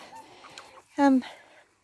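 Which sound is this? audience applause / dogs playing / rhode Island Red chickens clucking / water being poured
rhode Island Red chickens clucking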